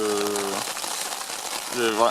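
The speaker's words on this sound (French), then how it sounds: "maintenant c'est la pluie, super" Rain patters on a tent in the mountains as a steady hiss of drops on fabric, with someone talking over it at the start and end.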